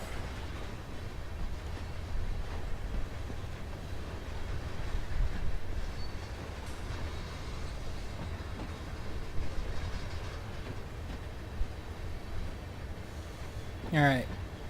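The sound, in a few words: train locomotive crawling along in a train video game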